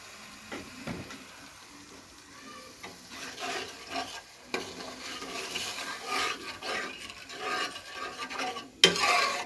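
A lemon and milk mixture goes into a pan of chicken korma, followed by steady scraping and stirring with occasional faint sizzle, growing busier partway through and ending in a sharper clatter.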